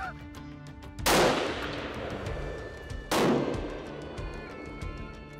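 Rifle shots at the Savage Arms factory range, two loud booming reports about two seconds apart, each trailing a long reverberant decay over a steady background hum.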